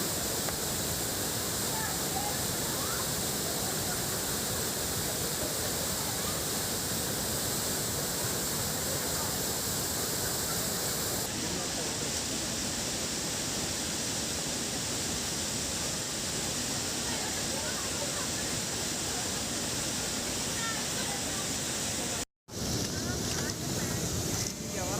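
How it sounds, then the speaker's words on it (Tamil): The Hogenakkal waterfall on the Cauvery river in flood: a dense, continuous roar of rushing water, loud and unbroken, with wind buffeting the microphone and a brief dropout near the end. "ஒகேனக்கல் அருவியில் வெள்ளப்பெருக்கு ஏற்பட்டுள்ளது"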